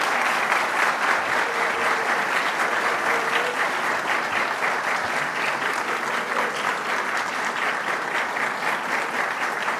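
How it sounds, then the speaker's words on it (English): Standing recruits at a graduation ceremony give their families a sustained round of applause, a thick, even roar of many hands clapping that continues steadily throughout. "Recruit Class 50, please stand, turn around, and you give a round of applause and thanks to your family members"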